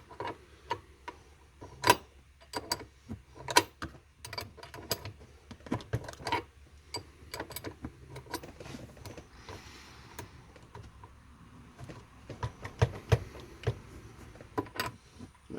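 A wrench tightens the e-brake adjuster on a Ford Focus Mk3, making irregular metallic clicks and ratcheting ticks, some sharp and close, scattered across a quiet workspace with no talk.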